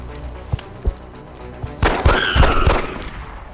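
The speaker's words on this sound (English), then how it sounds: "Let's see what the pistol can do." Pistol fire in the video game XCOM: Long War: two sharp, isolated shots ring out, followed by a louder, denser cluster of cracks and impacts.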